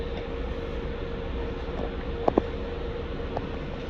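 A Kawasaki M8 commuter train runs on the Harlem Line near Hartsdale, its steady interior rumble and hum continuous throughout, with a pair of sharp clicks or clunks midway and a fainter knock later.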